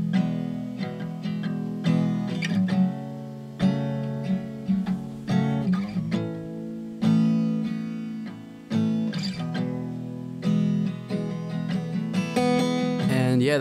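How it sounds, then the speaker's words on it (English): Simple looped guitar chords recorded at a friend's house ring out clearly, strummed in steady repeating phrases with sustained harmonics and no talking over them. "we started playing these guitar chords, and he recorded them in, and they sound like this"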